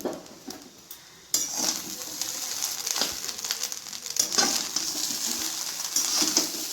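Fried rice is stirred with fried cashews and raisins in a pan after a quiet start, a close run of scraping, clinking spatula strokes over a soft sizzle.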